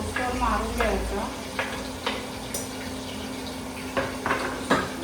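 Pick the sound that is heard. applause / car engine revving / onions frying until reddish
onions frying until reddish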